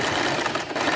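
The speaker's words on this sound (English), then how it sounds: "secure the elastic by sewing both" Sewing machine stitching across both ends of an elastic band for a homemade headband, a steady continuous whir running close and loud through the whole moment with no pauses.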